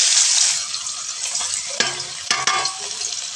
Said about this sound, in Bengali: আমি এবারে চিকেনটা তেলের মধ্যে দিয়ে দেব।